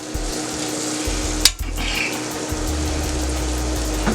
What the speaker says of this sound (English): So we're going to go ahead and caramelize these and get them nice and sauteed down here.